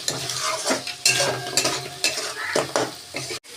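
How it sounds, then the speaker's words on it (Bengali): Fried crabs being stirred with spices in a pan, with repeated scraping strokes of a utensil against metal over a steady sizzle, each stir close and distinct, no voices. "দিয়ে ভালো করে নেড়ে নিচ্ছি।"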